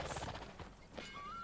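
A horse whinnies amid soft hoofbeats and game ambience in Red Dead Redemption 2, with a rising tone near the end.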